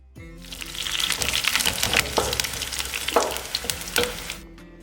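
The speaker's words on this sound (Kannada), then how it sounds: "ತೆಂಗಿನೆಣ್ಣೆಯಲ್ಲಿ ಕೊಟ್ಟಿದ್ದೀನಿ ಒಗ್ಗರಣೆ" Mustard seeds, garlic, curry leaves and dried red chilies tempered in hot coconut oil with a pinch of asafoetida, giving a close, loud burst of sizzling and popping crackles that runs steadily for a few seconds, with no voices.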